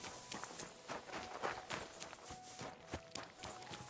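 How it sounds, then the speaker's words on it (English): Steady clip-clop of horse hooves trotting at a quick, even pace in Kingdom Come: Deliverance 2, fairly close, with faint ambient noise and no talking. "Get my horse."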